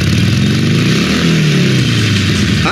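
A new motorcycle engine revs loudly and close in a radio advertisement, a throaty, steady roar that rises in pitch, with no voice over it.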